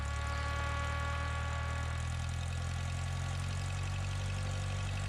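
Small single-engine propeller airplane at full takeoff power on the runway, a loud, steady drone with a strong low hum and constant propeller buzz holding level throughout, no talk over it.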